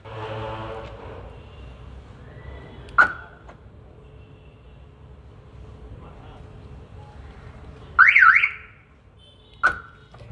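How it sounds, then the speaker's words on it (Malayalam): A Crosslink central lock and keyless entry alarm on a car gives two short chirps and one brief warbling siren burst. The sounds are loud and close and separated by quiet pauses, with a person talking at the start. "ബോണറ്റ് പൂട്ടണം, ഇല്ലെങ്കിൽ അലാറം അടിയും"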